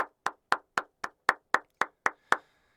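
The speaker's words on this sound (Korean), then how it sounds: "진짜로 이거는 진짜 박수 한번 칠게요" One person claps hands ten times at a steady, even pace, each clap sharp and close with a brief ring-off, nothing else in the background.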